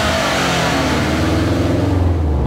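A 2.5-litre turbocharged flat-four engine in a Subaru Impreza STI roars loudly as the car accelerates, a close, dense, rising engine note lasting a couple of seconds.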